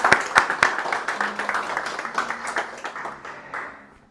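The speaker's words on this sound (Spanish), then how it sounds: "quiero que les demos un aplauso primero al Espíritu Santo" A church congregation claps in quick, scattered bursts that gradually thin out and fade over a few seconds, with some voices faintly audible underneath.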